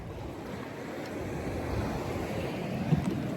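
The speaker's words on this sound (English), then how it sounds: "Disney cruise is moving pretty fast for a big boat" Ocean waves rushing past a Disney cruise ship moving fast, a continuous broadband wash of water and wind noise, steady and fairly loud with no voices.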